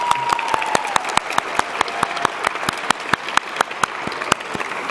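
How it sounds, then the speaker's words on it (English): An audience applauds steadily, many hands clapping indoors, with a few louder individual claps standing out from the crowd. "Let's give them a round of applause."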